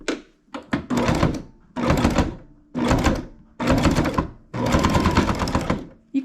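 A Baby Lock Jazz II sewing machine stitches quilt binding in close, loud bursts of rapid mechanical whirring separated by short pauses, with a few brief knocks at the start.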